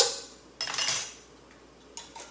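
A spoon clinks and scrapes against a bowl while salt, pepper, garlic powder and onion powder are mixed, a few short bursts of stirring with quiet gaps between them, close and fairly soft.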